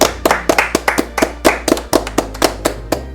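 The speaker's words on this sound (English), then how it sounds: "Let's give it a round of applause" A small studio audience at a sports talk show claps in a loose, uneven burst of sharp, close hand claps, about a dozen distinct slaps over a few seconds, with no one speaking.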